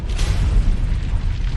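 Explosion of the crust of Venus that sends huge basalt chunks flying, heard as a loud, deep, rumbling boom that fills the whole moment, with no talking.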